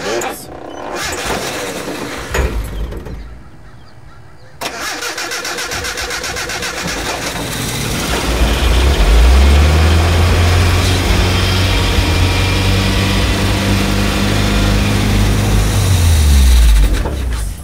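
A 1984 Datsun 4x4 engine cranks briefly, then catches and roars up to a loud, steady high idle close by, with a rough mechanical drone holding to the end.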